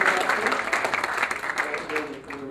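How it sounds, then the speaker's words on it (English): An audience at an EMS conference session claps in a dense, steady round of applause that fades slightly toward the end, with the speaker's voice partly mixed in. "give them a round of applause"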